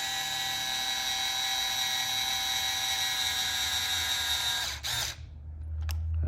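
A power drill whines steadily while driving a screw into a Tekno SCT410.3 short course RC truck kit, running continuously for several seconds before cutting off abruptly, with a brief clatter after.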